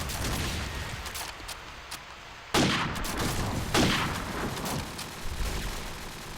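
Gunfire during a Call of Duty 4 Promod competitive match: sharp, loud shots over a steady bed of game noise, with two prominent cracks standing out among fainter scattered fire.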